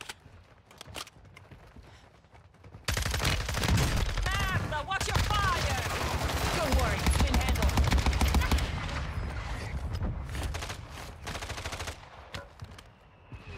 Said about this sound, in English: That boy shooting dead bodies